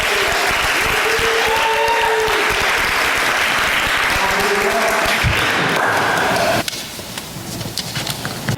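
An audience applauds to welcome a guest speaker at a church service, with steady dense clapping from a room full of people for several seconds before it thins out and fades toward the end.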